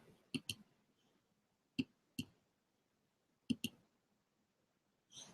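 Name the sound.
computer mouse clicking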